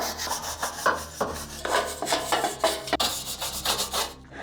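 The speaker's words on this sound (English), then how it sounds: "So I'm gonna go over this with a brush and get rid of all the crap that's in here." Steady scratchy brushing over an old, dirty car dashboard to clear away dust, close and rhythmic with repeated rough strokes and no talking.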